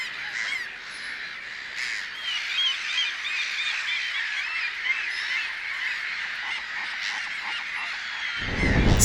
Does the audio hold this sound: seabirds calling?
yes